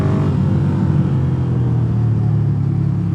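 A Ducati Desert Sled motorcycle with an 803 cc engine pulling hard under acceleration, giving a loud, continuous low rumble and drone close to the microphone.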